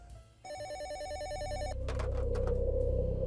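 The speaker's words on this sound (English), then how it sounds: "My phone rang and I picked it up." A warbling electronic telephone ring trills for about a second, then cuts off into a low hum and clattering handling noises, as if the receiver is picked up.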